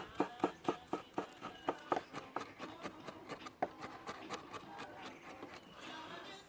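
Knife finely chopping garlic on a cutting board for a fresh tomato sauce, giving a quick run of rhythmic tapping strokes that begin crisp and close and grow softer and denser toward the end.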